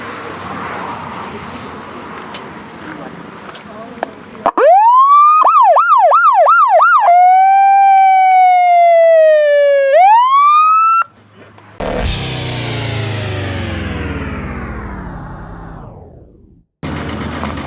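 Siren on a replica Blues Brothers movie police car, loud and close, with rapid warbling whoops that settle into a long wail and rise, then a harsh blaring horn-like tone, no voices over it.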